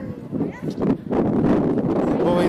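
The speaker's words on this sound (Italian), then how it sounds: "Un po' ventoso." Gusty wind in the Bratislava city centre buffeting the microphone as a loud rushing roar, swelling after a brief lull and sustained to the end, with a person talking over it.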